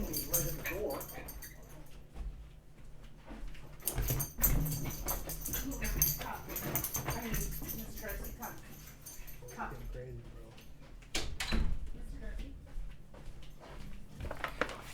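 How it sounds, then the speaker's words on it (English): Dogs yip, whimper and bark in short bursts indoors near a doorway, mixed with a person talking and moving about; the barks come irregularly across the clip at moderate loudness. "The dogs are being spastic."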